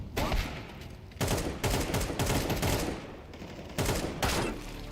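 Bursts of automatic gunfire in a shooter video game, several loud rattling volleys separated by short pauses, close and dense.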